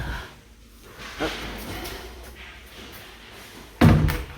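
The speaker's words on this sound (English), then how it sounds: "My cabinet doors open and close." A couple of wooden knocks and a louder thump near the end as cabinet doors are opened and shut nearby in a basement after structural leveling work, with soft background noise between.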